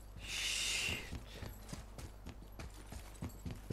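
A horse's hooves clip-clop in the video game God of War, a steady run of soft, evenly spaced thuds close by, after a brief hissing burst at the start.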